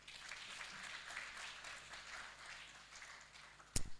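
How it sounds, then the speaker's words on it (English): An audience clapping at a census dissemination workshop, a faint, distant patter of applause sustained throughout, ending with a sharp nearby knock. "permit me to ask you to clap for this entire list"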